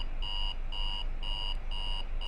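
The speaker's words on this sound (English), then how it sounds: "This timer is telling me that time is running out." A countdown timer in the video game Fear Equation beeps in a regular pattern of about five bright electronic tones, evenly spaced over a low background hum.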